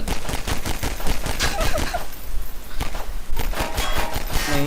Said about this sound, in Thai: เสียงยิงปืน